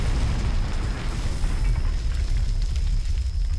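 Tank blown up in the Combat Mission wargame, heard as a continuous heavy rumbling boom with crackling debris, loud and sustained with no clear onset or pause.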